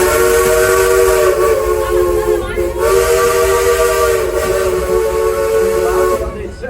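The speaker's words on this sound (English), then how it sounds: "Would you toot your whistle 2 more times for them?" The steam whistle of the Frisco train at the Silver Dollar City theme park shrieks loud and near in long, piercing blasts broken by short breaks, with a hissing edge throughout.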